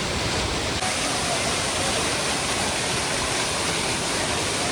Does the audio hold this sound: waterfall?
yes